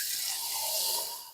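Water poured into a batch of salsa before pulsing it thinner: a brief, close, hissy splashing pour that swells and then tapers away in just over a second, with no voices.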